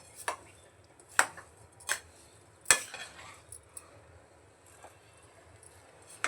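Spoon scraping and knocking in a pot while a sweet dish is mixed with sugar and ghee, a few sharp separate clinks at uneven intervals over a quiet background.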